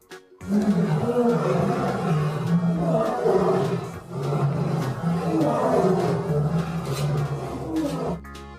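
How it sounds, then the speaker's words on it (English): A lion roars in a long, deep, rumbling bellow that swells and fades over several seconds, loud and close, standing alone without speech. "L for lion."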